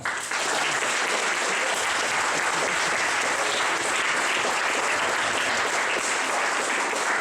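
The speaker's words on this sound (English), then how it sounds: "Can they please get a big round of applause" Audience at a Startup Weekend event in Žilina applauding the coaches, a loud, sustained round of many hands clapping that starts abruptly and holds steady for about seven seconds.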